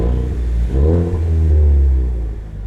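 A 2020 Ford Mustang EcoBoost High Performance with automatic transmission, exhaust set to track mode, revs hard and loud close by, its deep engine roar rising and falling through two surges.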